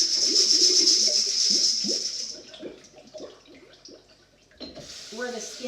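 Water sprays from a sink sprayer onto beans being rinsed, a bright hiss that fades after a couple of seconds, followed by splashing and clattering as a person talks.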